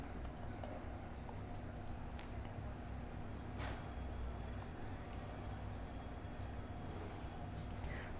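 Soft, quick clicks of a file name being typed on a computer keyboard, faint and close against a steady low hum, with no voices.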